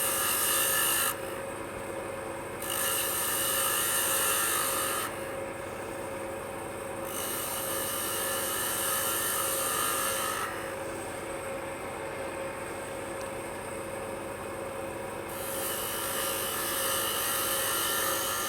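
A skew chisel smooths a wooden tea light holder spinning on a lathe, making a steady rasping hiss over the motor's drone, with the cutting noise rising and easing in several long passes.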